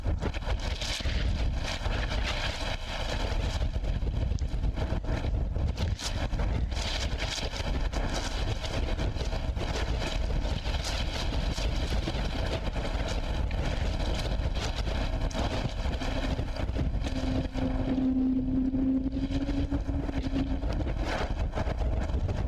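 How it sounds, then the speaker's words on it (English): Airliner jet engines roar at SFO airport. They produce a steady, heavy low rumble that fills the whole stretch at sustained loudness, with a brief tonal drone near the end. "when you hear those engines roar up like that"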